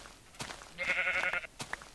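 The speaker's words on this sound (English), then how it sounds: "You can just go and punch sheep and it'll drop wool" A Minecraft sheep bleats once, a short wavering nasal cry, near and clear over soft background clicks as it is punched for wool.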